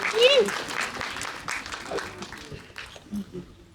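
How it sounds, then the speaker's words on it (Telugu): Scattered audience applause at a film pre-release event, uneven and moderately faint, with an announcer's voice and crowd noise mixed in over the clapping. "ఈ ముగ్గురిని ఒకటేసారి మీ అందరు చప్పట్ల మధ్య వేదిక మీదకి రావాల్సిందిగా కోరుతున్నాం."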